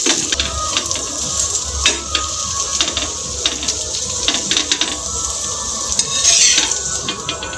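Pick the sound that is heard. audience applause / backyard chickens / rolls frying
rolls frying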